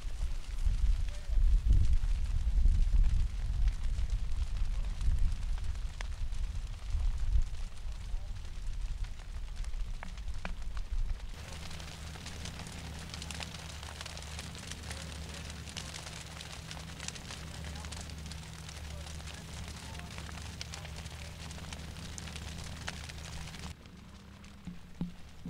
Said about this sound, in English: over 80 acres will have been burned